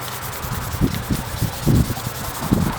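Fine 600-grit sandpaper is rubbed over a wooden bullwhip handle in short, uneven back-and-forth strokes, a soft, close scratchy hiss with no talking.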